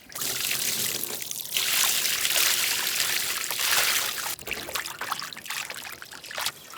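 Water trickles and splashes steadily as beef liver is rinsed outdoors for a traditional village recipe, a continuous close flow with brief shifts in intensity and no talking.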